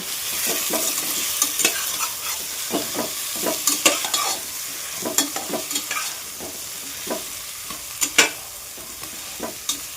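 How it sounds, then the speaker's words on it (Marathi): Cut eggplant with masala is stirred and fried in oil. A steady sizzle runs throughout, broken by repeated scraping and clattering strokes of the spoon against the pan. "दोन मिनटं आपण मिक्स करून फ्राय करणार आहे"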